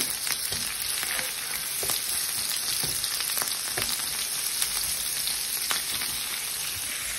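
Food seasoned with salt, pepper and traditional spices frying in a pan, a steady crackling sizzle with scattered sharper pops, close and continuous without talk.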